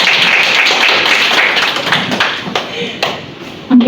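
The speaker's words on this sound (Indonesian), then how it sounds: "Tepuk tangan." A group of nursing students at a classroom counselling simulation claps in a dense, close burst. The clapping thins toward the end, with a few louder taps near the close.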